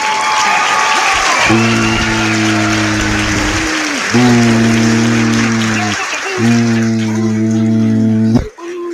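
A studio crowd applauds a guest arriving on a live talk show, a loud steady wash of clapping under sustained musical chords that swell in three long bursts.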